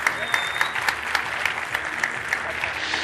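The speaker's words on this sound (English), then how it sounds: "A big applause." Audience applause at a security conference talk on exploit development for Cisco IOS, a brief burst of clapping from the crowd with a few sharper claps standing out.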